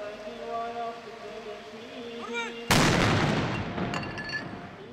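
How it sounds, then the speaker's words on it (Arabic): The Ramadan cannon fires at Sheikh Zayed Grand Mosque in Abu Dhabi, a single sudden loud boom that rolls away into a long fading rumble, after a stretch of background voices and ambient hum. "حيث يحرص الكثيرون على حضور انطلاق مدفع رمضان في هذا المكان المميز"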